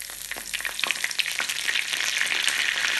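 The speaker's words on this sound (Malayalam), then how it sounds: "കുറച്ച് കറിവേപ്പിലയും ഇട്ട് കടുക് പൊട്ടിക്കാം." Mustard seeds, dried red chillies and curry leaves spluttering in hot coconut oil, a dense close crackle with sharp popping bursts that grows into a steady hiss.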